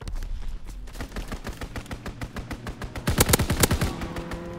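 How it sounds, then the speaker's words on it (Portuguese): Rapid bursts of automatic gunfire from a strafing run in a video game crackle in volleys, growing louder and denser toward the end, with sharp repeated shots. "Strafing run inbound."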